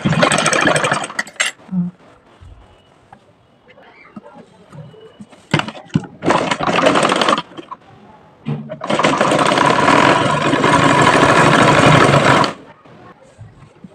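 A sewing machine stitches elastic onto a dress, running in loud, close, rapid bursts, one short and one long, with quiet pauses and soft handling noises between runs.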